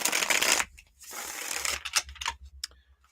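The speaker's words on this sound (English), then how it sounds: "Let's shuffle these up here." Tarot cards shuffled by hand in a quick crisp riffling burst, then a pause, then more ruffling and scattered snaps and taps, close and alone with no talk.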